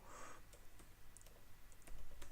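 Code is typed on a computer keyboard: soft, sparse keystrokes and scattered clicks, close and quiet, with no voice present.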